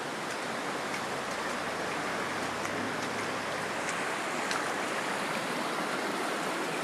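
Heavy rain pours down steadily during severe March 2011 flooding in South Carolina, a dense, constant roar of water that stays near and loud throughout with no voices.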